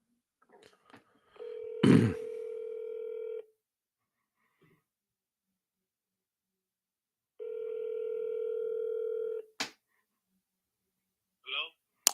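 A telephone line gives two long steady ringback tones separated by silence, clear and close, with a short burst of speech near the end.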